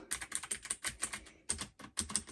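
Quick, crisp clacks of fingers typing on a clicky mechanical computer keyboard, an uneven burst of close keystrokes with short pauses, no voices.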